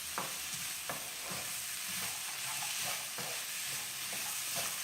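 Potatoes and vegetables fry and sizzle in a pan over a flame, with a steady hiss and repeated scraping stirs about every second, close and moderately loud, no talking.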